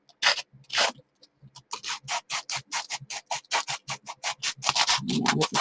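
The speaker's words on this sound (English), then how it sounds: "And you just start kind of lightly sanding off," Plaster being lightly sanded by hand, with quick rhythmic rasping strokes, close and fairly loud, repeated steadily in a brisk series with brief gaps between them.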